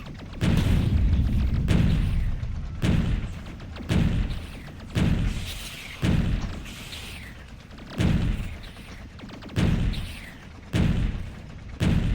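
Tank cannon in Factorio firing on biters, heavy booming shots repeating roughly every one to two seconds, each a loud low thud with a short decaying tail, alone with no talking.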